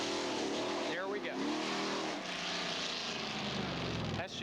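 Hemi Under Glass drag car with a rear-mounted 426 cubic inch Hemi engine launching from a starting line with front wheels lifting, a loud roaring engine rising in pitch with crowd or announcer voice beneath.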